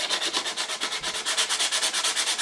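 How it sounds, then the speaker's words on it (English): Quick rhythmic back-and-forth strokes of sandpaper rub around the lip of a wooden part, close and loud, about eight strokes per second with no voices. "sand around just on the lip there, nice and smooth."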